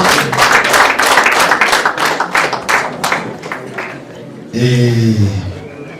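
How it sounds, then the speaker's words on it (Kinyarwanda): Guests at a festive gathering clap together in a brisk, close burst of many hands that tapers off over a few seconds. A voice then starts talking. "n'abashimira batanga amashyi birabariho"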